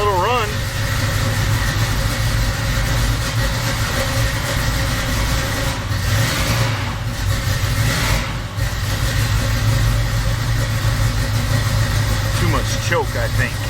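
A Kawasaki 350SS motorcycle engine runs steadily and loudly throughout, a continuous mid-pitched idle with slight revving swells, while a voice talks over it near the start and end.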